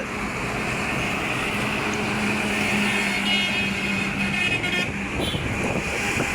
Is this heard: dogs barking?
no